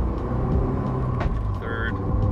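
A manual-transmission car drives along with a continuous, fairly loud engine rumble heard from inside the cabin, steady across the short stretch with faint road noise mixed in.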